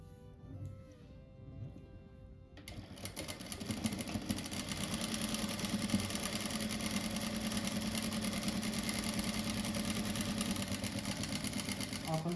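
A sewing machine runs steadily stitching patchwork squares for a rug, a continuous mechanical whir starting after a few seconds of quieter room sound with faint talk, then holding loud and even.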